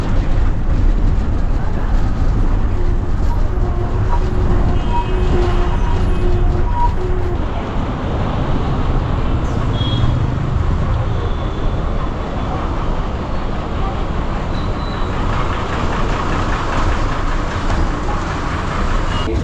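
Bus at the busy Sangameshwar bus stand on weekly market day, bound onward to Devrukh; a loud, steady engine rumble with continuous background traffic and crowd noise throughout.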